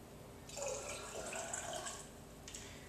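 Water is poured out of a glass Chemex coffee maker, a faint splashing trickle that swells briefly and then tapers off, with no talking.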